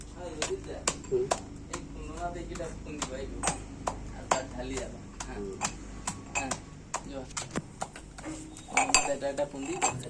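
Fish being pounded in a mortar with salt and mustard oil, giving repeated sharp knocks in an uneven rhythm, close and clear, with a voice talking over the pounding throughout.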